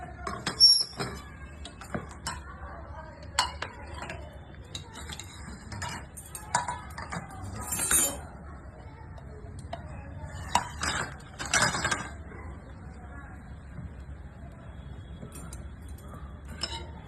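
A metal plate is lifted out of a pressure cooker, giving a series of close, scattered clinks, scrapes and rattles over a quiet background.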